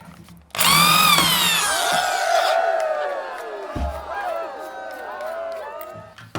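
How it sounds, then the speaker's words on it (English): A power drill spins up loudly with a rising whine, then winds down while a drill bit cuts a hole during fitting of an air fuel ratio gauge. A sharp knock sounds partway through as the motor fades. "how hard can it be to drill a hole?"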